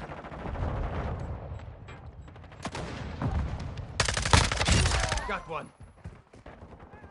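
Gunfire in Call of Duty multiplayer, bursts of rapid automatic shots, the loudest dense volley in the middle, mixed with a brief shout and game chatter.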